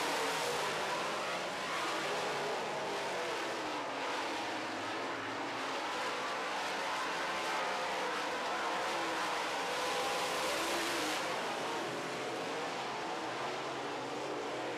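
Late model race cars circling a dirt speedway during a heat race, a steady dense engine roar from the pack that swells slightly mid-run, heard at a distance with no talk.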